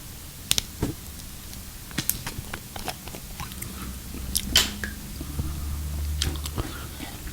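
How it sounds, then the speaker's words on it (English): A plastic bottle of Buxton water is twisted open up close, giving sharp crackling clicks and small snaps of the cap against quiet room hiss. "I've got some Buxton water, which I'm going to open up now."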